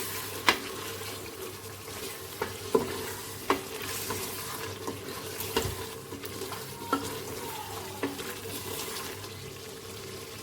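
Chicken frying in a pan with crushed dried coriander and cumin for an aloo chicken dish, a steady close sizzle broken by repeated sharp clinks and scrapes of stirring, with no talking.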